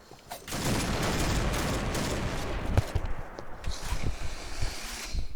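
A tank fires in a video game, a loud burst of booming gunfire that rolls into a sustained rattling barrage, close and heavy, with no talking.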